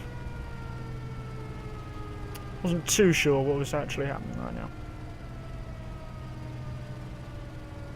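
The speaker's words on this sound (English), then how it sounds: "especially with the air raid siren just going off." A steady wailing air raid siren in the War Thunder video game drones in the background, slowly falling in pitch, while someone talks briefly over it.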